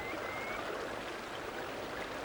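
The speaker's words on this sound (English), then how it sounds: "Quite a lot is gentle flowing flat water." Gently flowing flat river water, recorded in 1977, makes a soft, constant rushing hiss with no pauses or voices.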